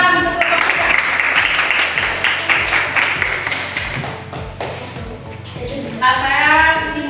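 A classroom of students claps for group 3 after a presentation, a close, busy burst of hand claps with occasional taps and thumps, easing off midway before a voice speaks near the end.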